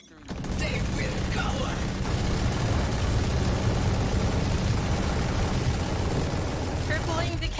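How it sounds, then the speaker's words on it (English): Rapid automatic gunfire from the video game Valorant rattles almost continuously for several seconds, loud and dense, with gameplay sound effects mixed in. "Make sure you listen to my gunshots here, baby Jay."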